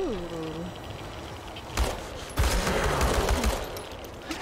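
AK-47 gunfire in the video game Chernobylite, a sudden burst of rapid shots that starts after about two seconds and carries on loud and close over steady in-game background sound.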